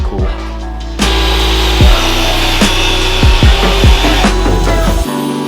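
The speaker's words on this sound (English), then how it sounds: "I'm just going to cut out all around my lines" Power saw cutting timber for a rotten door repair, a loud close whine with a steady buzzing drone, a sharp start about a second in, and bumps and shifts in pitch as the blade works through the wood.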